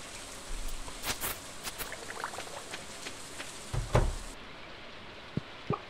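Steady rain falls in the farming video game Stardew Valley, a continuous wash of patter with a few louder splashy drops and thumps scattered through it, no voices.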